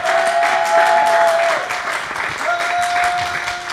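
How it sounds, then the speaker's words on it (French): Warm, loud applause from a press conference audience for Tiken Jah Fakoly at the SunSka Festival, a dense continuous clapping wash with a faint steady tone running beneath it. "On peut applaudir, je pense chaleureusement encore une fois Tiken Jah Fakoly"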